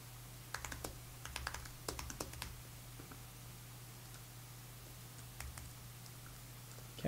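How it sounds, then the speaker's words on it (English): Someone types on a computer keyboard in a quiet room, producing scattered, light key clicks in short bursts over a low steady hum, with no talking. "Just typing up some phrases"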